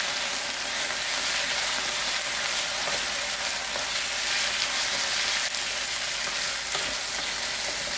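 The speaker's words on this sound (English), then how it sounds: "And we'll constantly stir fry it" Lemongrass chicken made with thigh meat is stir-fried constantly, producing a dense, even, close-up sizzle that holds steady at a loud level throughout, with no voices.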